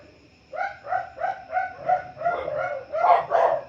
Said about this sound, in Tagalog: parang tumatahol yung mga aso dito sa kapitbahay mo doon.